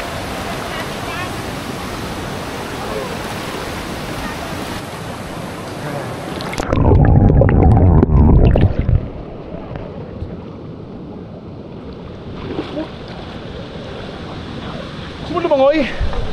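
Ditumabo waterfall in Baler, Aurora roars as a steady broadband rush, swelling loudest for a couple of seconds midway, with people talking over it at times.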